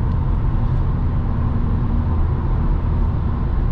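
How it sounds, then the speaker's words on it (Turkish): A car with a DSG dual-clutch gearbox cruises on a road in D, steady engine and road rumble close and continuous, with no shift events standing out clearly. "DSG yine patır patır vitesi atıyor gördüğünüz üzere."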